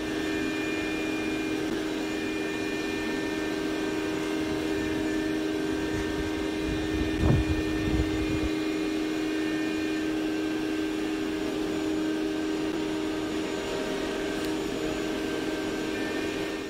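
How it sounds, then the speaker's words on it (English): A CNC machine cuts caravan flooring and internal panels, a loud continuous whine and roar with steady tonal hum, close and unbroken for the whole span, with one brief thump partway through. "I'll actually throw you to the CNC machine so you can see what I'm talking about with a bit of footage there."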